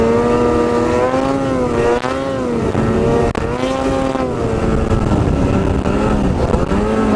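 A snowmobile engine runs loud and close after a snow storm, a steady droning roar with wavering pitch that dips and surges unevenly, hinting at a rough-running motor, no voices.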